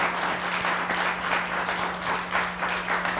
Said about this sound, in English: could we get a big, big, big round of applause for all the storytellers?